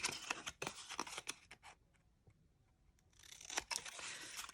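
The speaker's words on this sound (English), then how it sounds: "cut 1/16 of an inch on each of those flaps, just so that it fits into the rest of it when we fold it" Scissors snip flaps on a small milk carton, sharp crisp clicks in two clusters separated by a quieter lull, close and faint overall with no talking.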